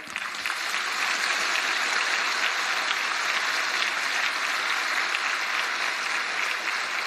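An indoor audience at a religious discourse on the Ramayana claps in sustained, dense applause that swells after a brief start and holds at a steady level throughout, with no voices on top.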